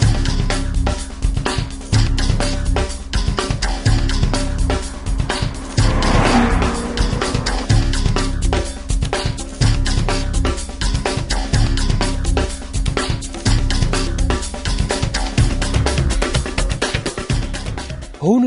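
A Maserati GranTurismo powering through slow corners, its engine loud and close with a constant growl, revving and tires squealing as it pulls out of the bends.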